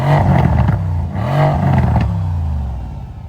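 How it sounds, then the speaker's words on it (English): A deep AMG car engine revs hard twice, rumbling loudly up close, then settles into a throaty idle. "I'm gonna give y'all some revs real quick."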